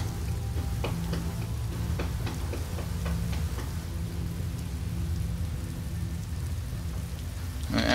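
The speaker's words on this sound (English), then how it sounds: "Oh, it's still raining." Steady rain falling in the video game Skyrim, a dense continuous patter with low rumbling undertone throughout, no voices.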